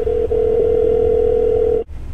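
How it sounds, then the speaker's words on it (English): Hands-free dialing tone from a 2012 Ford Focus, a loud steady single-pitch tone with a brief dropout near the start, ending abruptly after under two seconds. "Dialing."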